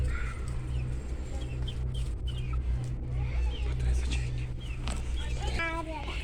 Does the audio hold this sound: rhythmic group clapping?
no